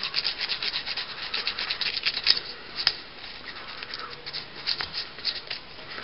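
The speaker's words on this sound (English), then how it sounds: "grab the brush, put in the solvent, and just scrape right here" A brush scrubs the slide rail area of a disassembled 1911 .45 caliber pistol with solvent, giving a steady close scratchy rubbing with brief louder strokes and no talk.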